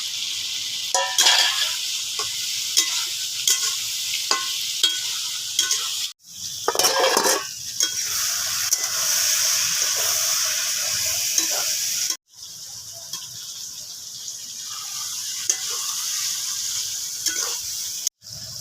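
Fried potatoes and elephant foot yam crackle loudly in a pan with curd while a spatula stirs, scraping and clinking against the metal. Two brief pauses break the continuous sizzle.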